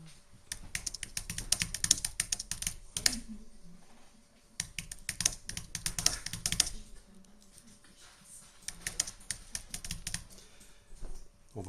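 Typing on a computer keyboard, bursts of quick close key clicks with short pauses between them, fairly quiet with no talking.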